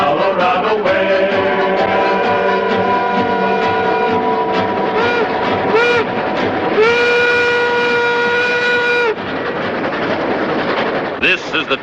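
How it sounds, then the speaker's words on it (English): Tomahawk and Western Railroad steam train in the Colorado Rockies running along the line, loud rumbling movement with a sustained whistle blast and rolling clatter, heard under a vintage film soundtrack with voices. "here's the first train to go out over the high iron,"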